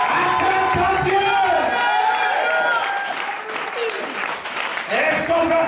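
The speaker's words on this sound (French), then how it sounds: "Acclame ton Dieu." A church congregation bursts into cheering and applause, loud sustained clapping beneath shouts, whoops and voices crying out together, close and continuous throughout.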